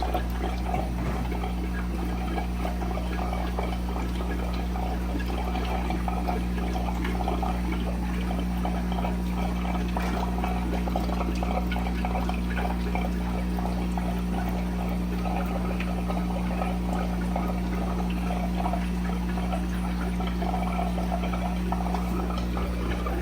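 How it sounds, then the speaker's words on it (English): Water pours steadily into a Fluval aquarium breeder box as it fills, a continuous close trickling and splashing over a constant low hum. "And as you can see, it's filling up pretty quickly. It's a good amount of water that comes out."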